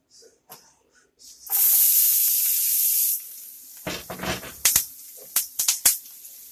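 Butter hitting a hot pot and sizzling, a loud bright hiss rising sharply and holding for about two seconds, followed by scattered pops and spits as it sautés close by.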